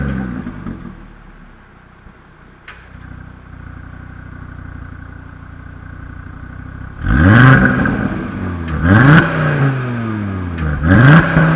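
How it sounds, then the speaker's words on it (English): An Audi RS Q3 five-cylinder engine idles quietly and then revs hard through repeated accelerations, with the pitch climbing, dropping at each shift and climbing again, loud and close with no talk. "at least we still get to enjoy that lovely 5-pot engine"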